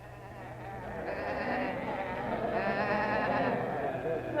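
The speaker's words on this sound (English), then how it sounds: "Oh, now, isn't that a pretty sheep there?" A sheep bleats in a Christmas shepherds' scene, giving two long, wavering calls close by, loud and clear, with no voices over it.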